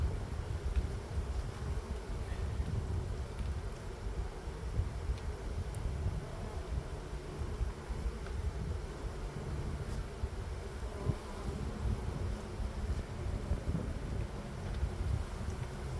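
Bees buzzing steadily while being removed from a thin wooden breeding box outdoors, a soft continuous swarm hum with faint wind noise and no talk.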